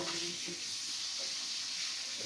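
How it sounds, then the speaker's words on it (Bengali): Hilsa fish frying in a pan in a home kitchen, a soft, continuous hissing sizzle heard close but quietly, with faint stirring and no talk over it. "মাছটা ভাজা হচ্ছে।"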